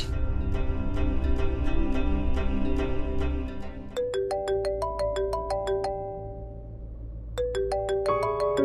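A phone rings during a call to a doctor, the tone rising and falling as a repeated electronic melody with a short pause before the pattern starts again.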